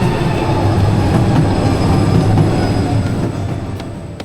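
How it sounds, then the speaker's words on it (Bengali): An Istanbul metro train pulls into the platform with a loud, steady rumble of wheels and carriages, the noise fading gradually as it slows to a stop. "আর কয়েক সেকেন্ডের মধ্যেই ট্রেন এসে থামে"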